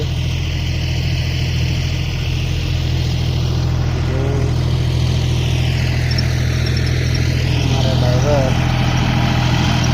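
A tractor engine runs steadily in a field during ploughing, a loud, close, continuous drone with a few small rises in pitch, while someone talks over it.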